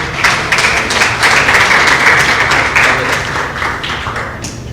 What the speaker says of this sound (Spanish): Le damos a Ismael Gamboa con un fuerte, pero muy fuerte aplauso.